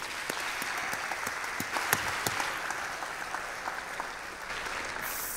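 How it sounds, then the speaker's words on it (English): Audience applause at a gala awards ceremony for a student company competition, a fairly soft, steady wash of clapping from a distant crowd, with a few sharper individual claps standing out. "So let's applaud, please"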